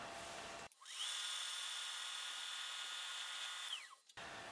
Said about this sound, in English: We're gonna drill up to that.